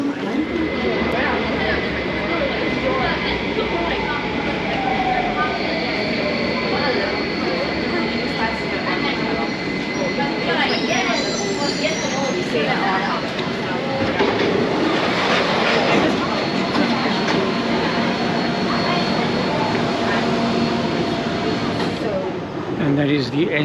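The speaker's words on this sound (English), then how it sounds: "that is the end of my second train trip" Subway train running on rails, a steady loud roar with a rising whine and rhythmic rail clatter, continuous and close for over twenty seconds as heard from inside the car.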